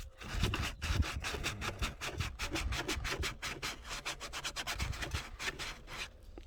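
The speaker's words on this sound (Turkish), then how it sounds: "şöyle bir zımparayla da zımparalamayı unutmayın" Sandpaper rubs back and forth over the cut edges of PVC pipe in rapid, steady strokes, a close, rhythmic gritty scratching with no talking.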